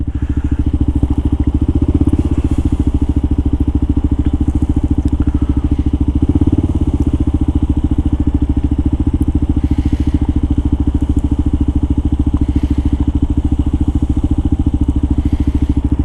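A Kawasaki KLR dual-sport motorcycle engine idles steadily at about 1500 rpm, a low rumbling throb that holds even and loud the whole time with no speech over it.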